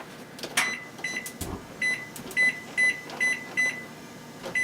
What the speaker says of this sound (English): We're going to set the timer for 25 minutes.